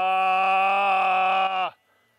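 A single long, steady, nasal 'baah' from a voice imitating a sheep's bleat calls out on a farm, loud and close, then cuts off abruptly into near silence.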